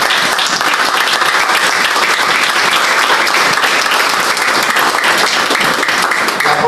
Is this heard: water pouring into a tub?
no